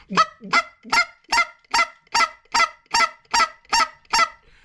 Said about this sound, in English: to run a Canada goose call, a short reed Canada goose call